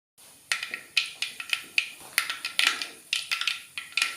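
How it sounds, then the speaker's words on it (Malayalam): Mustard seeds burst in hot oil in a pan for prawn theeyal, a rapid irregular series of sharp crackling pops, close and loud over a faint sizzle. "അപ്പോൾ കടുക് പൊട്ടി തുടങ്ങിയിട്ടുണ്ട്."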